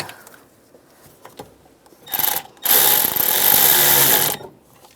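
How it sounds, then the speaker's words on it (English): A power tool runs briefly on a nut on the accumulator bracket of a 2007-2013 Chevy Silverado: a short burst, then a longer steady whirring run of about two seconds, close by after quiet handling noises. "I'm going to put the nut on down below for the accumulator on the bracket"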